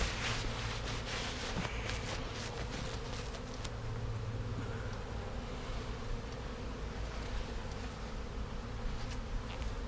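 Honey bees from a package colony buzzing steadily around an open hive frame, a dense, continuous close drone with no talk over it.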